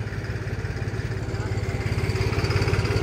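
A tractor hauling sugar beet idles close by at Rana Sugar Mill in intense heat, its engine chugging in a steady, even pulse that grows slightly louder toward the end, with faint voices in the background.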